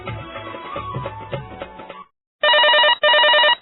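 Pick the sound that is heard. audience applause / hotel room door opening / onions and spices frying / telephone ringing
telephone ringing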